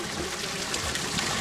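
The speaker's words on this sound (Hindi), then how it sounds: "ये स्टॉप ओवर था बाथूर प्राकृतिक गर्म पानी का झरना।" Water flows steadily at the Batur natural hot spring in Bali, a continuous close trickling and splashing rush with no pauses and no voices.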